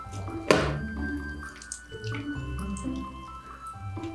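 A thin stream of water runs from a tap during a static-electricity balloon experiment, a faint, quiet trickle with a few sharper splashes and drips at the start.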